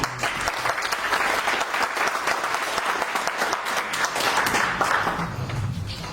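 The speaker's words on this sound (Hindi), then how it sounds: "तो जोरदार ताली आप लोग।" Vigorous applause from a seated audience at a wellness motivational talk, a dense, loud clatter of clapping that holds steady for about six seconds and trails off slightly at the end.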